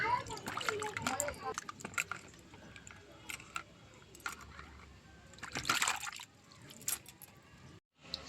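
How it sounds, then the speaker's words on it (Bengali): Raw meat rinsed by hand in a bowl of water in a home kitchen, with repeated splashing and sloshing bursts and a louder slosh near the end, while a voice is faintly present. "তো এই মাংসটা এবার ধুয়ে নিই"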